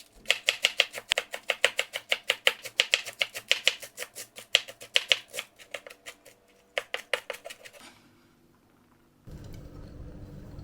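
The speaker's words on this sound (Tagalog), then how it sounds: "Hiwain din natin yung pino" Close, rapid knife chopping on a cutting board as an ingredient is minced finely for homemade gyoza filling, a long run of sharp, even taps that pauses briefly, resumes, then stops, leaving quiet kitchen noise.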